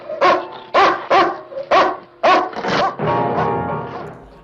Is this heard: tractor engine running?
no